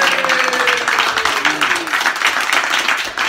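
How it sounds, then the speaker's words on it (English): Sustained audience applause and cheering fill the room in a dense, continuous wash, with a few voices rising above the clapping. "I think we can give a huge round of applause to Mark and Mike for an incredible weekend"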